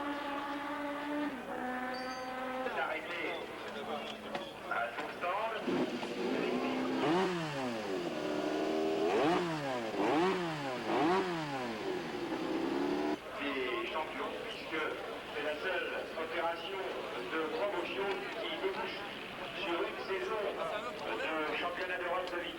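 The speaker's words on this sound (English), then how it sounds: "Dominique Sarron takes the Honda away for its 2nd warm-up lap." Honda endurance racing motorcycle on a wet warm-up lap at the 1984 Bol d'Or, its engine revving up and down in repeated sweeping pitch rises and falls, moderately loud beneath continuous commentary from someone speaking.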